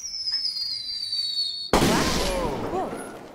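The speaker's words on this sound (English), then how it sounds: "Explosion." In The Quarry video game, an explosion erupts suddenly after a quiet electronic tone, a sharp loud blast followed by a rumbling, crackling decay.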